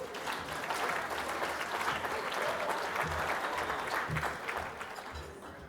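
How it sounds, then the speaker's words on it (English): An audience at an awards show applauds an arriving presenter, sustained and fairly distant clapping that holds steady before easing slightly at the end. "Give Lorraine a round of applause, guys."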